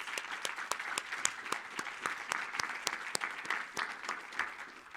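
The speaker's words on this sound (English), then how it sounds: "A round of applause for our panelists." A small audience at a panel session on British Columbia's LNG, mining and forestry industries gives the panelists a round of applause, with distinct individual claps heard at close range over a steady clapping wash.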